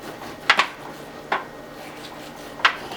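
Knife cutting across a cooked honey-glazed Jamaican ham, giving three or four short, sharp clinks and scrapes against a plate or pan, close and clear in an otherwise quiet kitchen.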